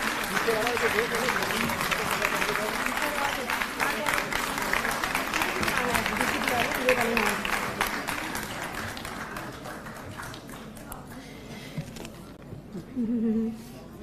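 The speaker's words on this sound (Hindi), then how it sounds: "जोरदार तालियों से एक बार हाथ ऊपर करके ताली बजा दी जाए सभी लोग" An audience at an awards ceremony hall applauds loudly, a dense burst of clapping that gradually thins and fades toward the end, with a voice speaking briefly near the close.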